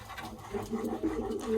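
Pigeons coo near their nest and eggs in soft, low, repeated throaty calls, close by, with a steady murmur underneath.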